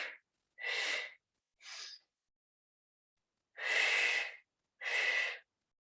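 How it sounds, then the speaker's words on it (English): Slow, deliberate breaths in and out during a yoga and Pilates stretch, heard as separate airy bursts with pauses between them, close and moderately loud, with no talking. "So breathe in as the legs switch. Breathe out."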